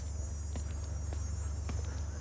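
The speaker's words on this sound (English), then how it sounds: "Cicadas are everywhere in Alabama" Cicadas in Alabama drone in a loud, continuous high buzz that holds steady throughout, with faint scattered clicks and a low hum underneath.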